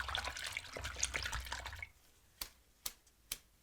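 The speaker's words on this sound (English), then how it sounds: "Using nice, very warm water with my Dawn dish detergent." Warm water mixed with Dawn dish detergent runs into a sink, a gentle splashing flow that stops, then a few distinct, close drips fall one by one.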